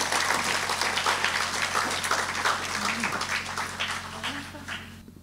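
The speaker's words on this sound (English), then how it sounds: "A loud round of applause." Applause fills a graduation ceremony hall, a dense, sustained round of clapping from the crowd with a steady low hum beneath, tapering off near the end as a voice begins speaking.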